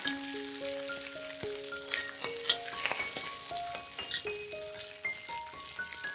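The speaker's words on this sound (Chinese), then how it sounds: "现在倒入适量的油，油热后放入菜心炒一炒" Choy sum being stir-fried in hot oil, a steady loud sizzle with scraping stirs of the spatula, overlaid by soft sustained background music tones, close up and without any talking.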